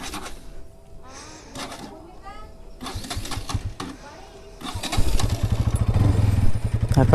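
A tractor engine labours and misfires close by, starting rough and uneven, then swelling into a loud, steady chugging throb near the end, with people talking over it.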